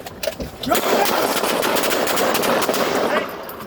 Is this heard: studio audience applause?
no